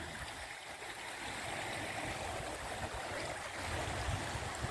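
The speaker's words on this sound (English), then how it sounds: "This is the overflow from the canal." Steady, continuous rush of water overflowing beside a canal lock, a dense even roar with no pauses or talk.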